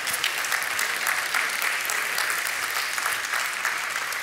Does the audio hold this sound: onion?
no